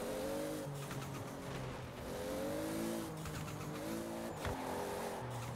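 A drag race car drives in a video game, its engine droning and shifting pitch in repeated rising revs, with tire squeals and skids, steady and fairly loud throughout.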